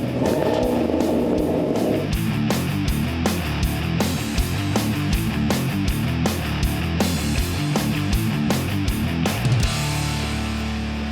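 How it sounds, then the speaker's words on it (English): A new 2014 Corvette V8 revs repeatedly in a garage, loud rising and falling engine roars in quick succession with sharp bursts, sustained throughout without talk. "we've got our hands on a new Corvette, and we're making it sound like it should."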